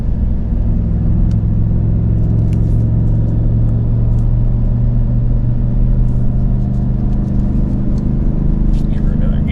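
A Ford 7.3-litre gas V8 in a Tremor pickup hauls a heavy trailer up a steepening grade, its deep engine drone and rumble holding loud and steady throughout with road noise.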